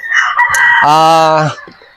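Rooster crowing loudly and close on a game farm, with chickens clucking around it: one long harmonic crow dominates the middle, and a few quieter calls come before and after.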